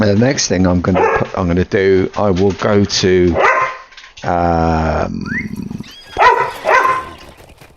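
A dog barks repeatedly in short bursts, loud and close, cutting across someone talking, followed by a whimpering yip near the end.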